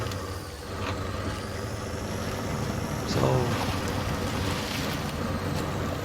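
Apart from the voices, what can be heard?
6x6 truck driving into deep water in SnowRunner video game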